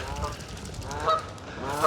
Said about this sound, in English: There's some geese there.